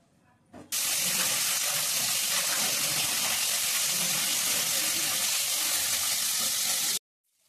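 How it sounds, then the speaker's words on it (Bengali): Fish coated in turmeric and salt hits hot oil in a pan on a gas stove, setting off a loud, steady, hissing sizzle that starts abruptly and holds evenly for several seconds before cutting off. "মাছগুলো ভেজে নেব।"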